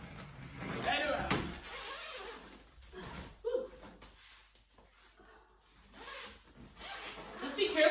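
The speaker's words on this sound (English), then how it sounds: "then take the zipper, which is right here, and go right around, right around." A zipper is drawn around the edge of a Mini-Uno 3-in-1 travel cot in several long rasping pulls with pauses between them, close to the microphone, along with fabric rubbing and handling noise.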